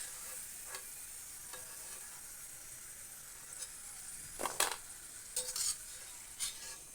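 Potato pieces for honey chilli potato fry in hot oil with a steady, soft sizzling hiss, broken by a few sharper crackling bursts near the end. No one speaks.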